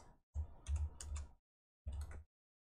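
Quiet computer keyboard typing of a terminal command, a few quick clusters of key clicks close by, with a short pause between bursts and no voices.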